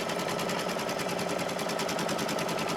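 Embroidery machine sewing a straight stitch on a zippered pouch in the hoop, a fast steady mechanical chatter with even rapid needle strokes, close and alone.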